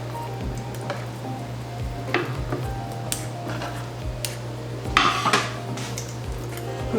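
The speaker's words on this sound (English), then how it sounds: "Then you're gonna wanna put your tofu into your marinade and spread it evenly." Cubed tofu is pushed around in marinade in a dish, giving scattered light clinks and scrapes of a utensil against the dish over a low steady hum.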